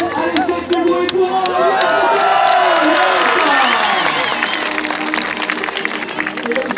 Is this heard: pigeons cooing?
no